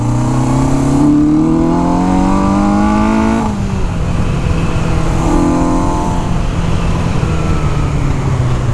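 An old motorcycle bought at auction, heard while being ridden: the engine revs up in rising pitch, drops as it shifts, then climbs again, loud and close with steady road noise.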